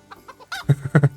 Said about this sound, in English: That was the villager clucking there.